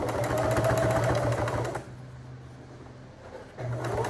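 A home sewing machine stitching a small fabric bag, its rapid mechanical whir running steadily and close, pausing briefly, then starting up again.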